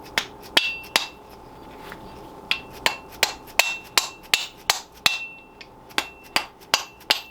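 A hammer beats a part slid onto a homemade trommel, striking about fifteen sharp metallic blows in uneven groups, loud and close with short ringing decay and no talk.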